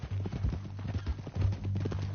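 Horse hooves clip-clop in a steady trotting rhythm inside a video game, with low in-game music or ambience running underneath throughout.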